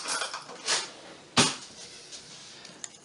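A spoon mixing a paste of baking soda and water in a kitchen gives a few brief clinks and scrapes against the container, close and fairly quiet, with soft handling noise in between.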